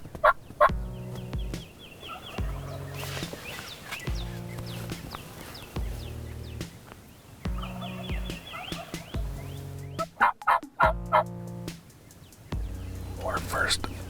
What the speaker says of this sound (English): we hear birds gobbling in every direction